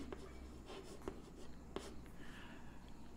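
Chalk or marker writing on a classroom board during a chemistry lesson, faint scratchy strokes with a few sharp taps, quiet over a low hum and no talking.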